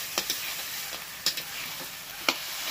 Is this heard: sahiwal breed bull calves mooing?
no